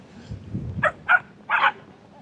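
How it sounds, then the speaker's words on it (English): Several dogs bark in short bursts, three distinct yelping barks at moderate distance over low background rumble, somewhere near a stormy beach area in Bali. "Dogs are going crazy."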